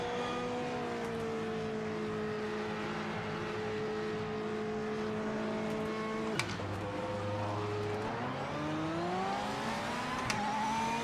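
Race car engine in a video game holds steady revs near 6,000 RPM for several seconds, drops abruptly, then climbs again in a rising whine, loud and continuous with no talk over it.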